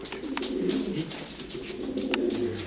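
A racing pigeon coos close by, a low rolling warble repeated in waves over a steady background, with a couple of brief sharper sounds.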